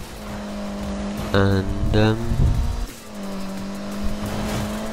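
A car drifts in the video game Need for Speed, with a steady engine drone and a brief squealing tire tone under a speaking voice.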